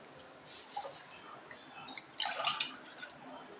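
Water, about one and a half glasses, is poured into a pan of cashew gathiya curry in a home kitchen, giving soft splashing and dripping sounds that rise briefly in a near, quiet burst.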